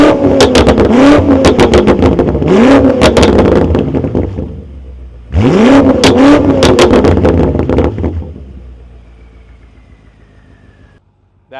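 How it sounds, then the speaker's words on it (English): A BMW M5 F90 fitted with an AWE exhaust revs loudly from outside the car, two long throttle blips rising and falling with a crackling exhaust note, then settling to a quieter idle that fades toward the end. "we'll do a little rev so we get the exhaust from the outside"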